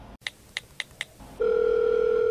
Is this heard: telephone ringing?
yes